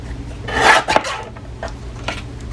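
Paper trimmed straight for a stamping craft card, a short dry rasping cut followed by a few softer scraping strokes close by, with no talk.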